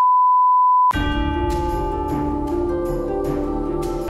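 A single steady censor beep holds one pure pitch for just under a second, then cuts off abruptly as loud music starts.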